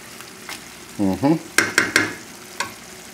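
Boneless chicken thighs and vegetables sauté in a pan, a soft sizzle under a brief squeak and several quick scraping clacks of a utensil stirring.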